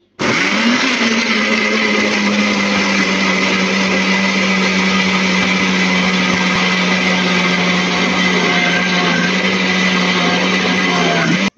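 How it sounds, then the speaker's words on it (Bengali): A kitchen blender whirs steadily as it purees boiled raw green mango pieces in its jar, a loud continuous motor drone holding an even pitch throughout. "ব্লেন্ডারে জার দিয়ে দিয়েছি, এবার ব্লেন্ড করে নেব"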